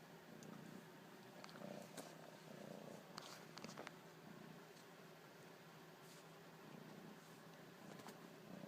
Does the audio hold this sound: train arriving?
no